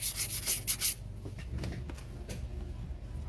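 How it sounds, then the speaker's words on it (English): A 240 grit file rubs over the edges of gel nails in steady rasping strokes, up close, with a brisk burst of quick strokes at the start that settles into a softer continuous scratching. "I like to take a 240 grit and just go over the edges just to make sure that they're not sharp"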